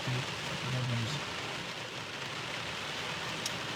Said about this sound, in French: Avec le bruit de la pluie